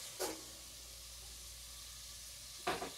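Peppers tossed into a hot pan for fried rice: a faint, steady hiss of heat, broken by two brief bursts of sizzle or scraping near the start and end, quiet and close.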